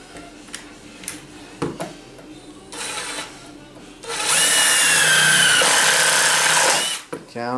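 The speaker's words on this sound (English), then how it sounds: "we're going to use our cordless ratchet drill" A cordless ratchet drill whirs during kitchen island cabinet installation, first in a few brief clicks and short bursts, then in one loud sustained run of about three seconds before cutting off, with some speech nearby.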